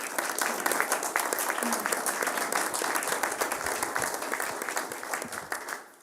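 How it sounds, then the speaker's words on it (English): An audience at a school board meeting gives students a round of applause: a continuous wash of many hands clapping at moderate volume that begins to fade away near the end. "can we give them a round of applause"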